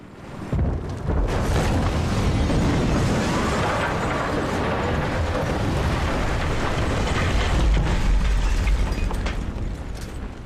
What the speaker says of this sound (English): I'm doing it with the 25mm cannon on the Little Bird.